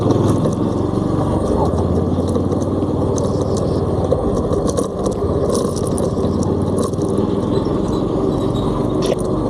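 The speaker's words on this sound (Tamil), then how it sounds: "வண்டியில் வேறு சில்லற சவுண்டாக கேட்குதான்" A Blinkit delivery motorbike ridden at night, with a loud, steady roar of engine and wind that fills the whole stretch and masks any finer rattle.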